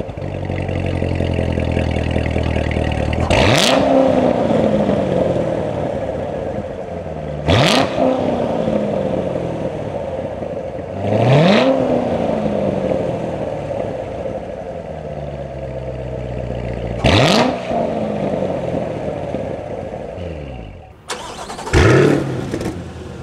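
A 2021 C8 Corvette engine barks through its square exhaust tips in a series of five sharp revs, each rising quickly and falling back to a steady idle, loud and close with no talking.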